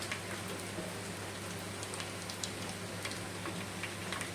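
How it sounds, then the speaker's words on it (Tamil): Mustard seeds, fenugreek and urad dal fry in hot oil while tempering for a nethili (anchovy) fish kulambu. A faint, continuous crackling sizzle carries scattered small pops, with no talk. "கடுகு வெந்தயம் உளுத்த பருப்பு பொரிச்சிட்ருக்கேன்"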